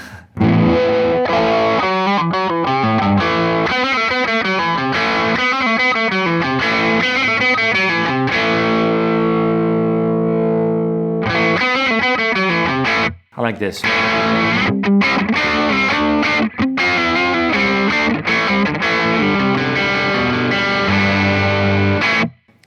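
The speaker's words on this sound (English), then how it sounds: "you can create a sort of cocked wah sound, like when the wah pedal is just in one sound" An electric guitar through a Chase Bliss Automatone Preamp MKII set to a fixed, cocked-wah tone plays distorted, nasal chords and riffs continuously and loudly, with a brief dropout near the end and a short spoken remark.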